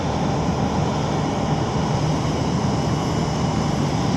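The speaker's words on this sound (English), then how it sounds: "One more Norwegian, but this time it's Boeing 787. Nice, and it's taxiing on its stand." Norwegian Boeing 787 taxiing onto its stand, a steady broadband jet engine rumble and whine at close range, constant in level throughout with no speech.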